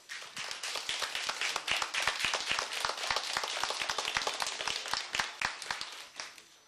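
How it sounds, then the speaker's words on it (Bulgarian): Crowd in Haskovo clapping on cue for the cameras, many sharp individual claps with a loose uneven rhythm that swell and sustain for several seconds, fairly close and without speech. "Аплодисменти!"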